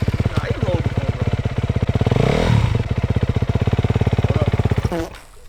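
A dirt bike engine revs hard and steadily at close range, its rapid pulsing drone rising in pitch midway and then cutting off abruptly near the end, with people talking around it.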